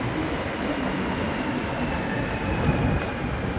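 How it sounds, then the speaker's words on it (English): A Montreal Metro subway train, an Azur set, rumbles steadily at a station platform with constant low-frequency roar and rolling noise, fairly loud and unbroken, no voices heard. "Don't want to miss this train."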